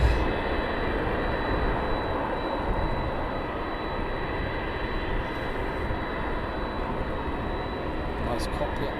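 A Kalitta Boeing 747 jet at night at East Midlands Airport sends out a constant, heavy engine roar with deep rumble, close and loud for the whole stretch.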